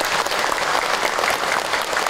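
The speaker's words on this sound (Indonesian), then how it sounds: "Tepuk tangan dong buat kita semua." Audience applause fills a gathering at an Islamic sermon, a dense, steady wash of many hands clapping at once, loud and continuous for about two seconds with no voices on top.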